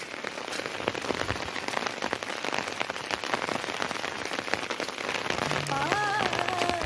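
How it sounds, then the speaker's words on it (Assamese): Steady rain falls outdoors in rural Assam at dusk, a dense close patter of drops hitting surfaces that continues throughout. A faint tonal warble rises near the end. "এয়া চাওক বৰষুণ দি আছে"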